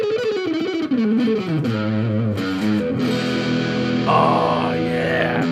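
An electric guitar in a guitar shop plays through a distortion pedal, sustained gritty chords and sliding notes ringing loud and close, with a brighter burst near the end.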